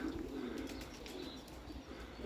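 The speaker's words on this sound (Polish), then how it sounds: "Tyle jest gołębi w baganianiach." Pigeons cooing in a loft, soft low coos repeating over a steady background murmur, with a few faint chirps and a brief flutter of wings.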